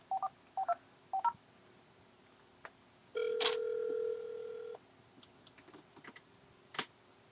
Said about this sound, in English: Phone is ringing, everybody.